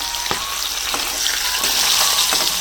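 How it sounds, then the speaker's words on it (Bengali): Fish head frying in oil in a village kitchen, a continuous close sizzle with a few sharp spatters and stirring scrapes. "আর এদিকে মাছের মাথাটাকে পুরো লাল করে ভেজে নেবো, মানে ভেঙে চুড়ে ভেজে নেওয়ার পরে।"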